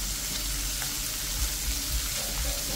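Cabbage, carrots and chicken cubes stir-frying for pansit canton give a loud, steady sizzle with soft stirring scrapes, close and continuous with no talk.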